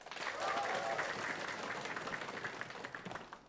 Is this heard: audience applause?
yes